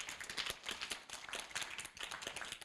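A university event audience in Korea claps to welcome a presenter, with lively, uneven clapping that rises and falls in waves and carries no talk over it.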